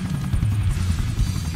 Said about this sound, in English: And grab onto the helicopter.